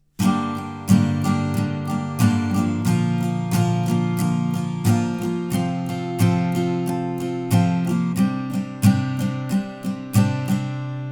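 Acoustic guitar strums the intro chords of a song in a steady down-up rhythm, bright and close, with regular chord changes and no singing.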